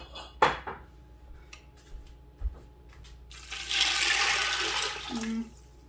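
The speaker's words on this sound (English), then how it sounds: "And then I'm going to put in probably about 6 cups of water." About six cups of water pour into a pot of meat and beans, a steady splashing rush lasting a couple of seconds after a few clinks and knocks of pot and utensils, close and moderately loud.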